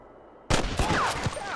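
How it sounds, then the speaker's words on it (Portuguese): Gunfire in the video game Red Dead Redemption, a sudden loud burst of several sharp shots in quick succession breaking a near-silent start, with a faint whistling tone trailing through the shots. "eu tô atirando na cabeça do cara"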